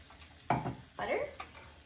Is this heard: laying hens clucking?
no